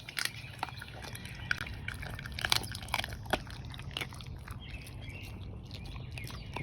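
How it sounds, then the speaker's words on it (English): Dogs crunch on raw chicken feet, giving a steady run of crisp bone-cracking snaps and chewing clicks at close range, with faint outdoor bird chirps in the background and no talking. "now they're crunching down"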